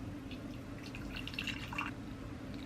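Tea poured into a cup makes a soft, brief trickle of liquid, close and quiet, with no voices.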